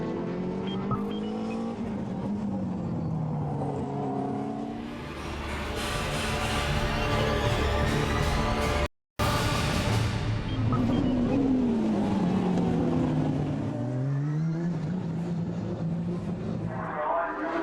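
GT race cars, including Porsches and Aston Martins, race in round 4 of the Avon Tyres British GT Championship at Silverstone, engines roaring loudly and continuously with rising and falling pitch as cars pass, broken by one brief dropout.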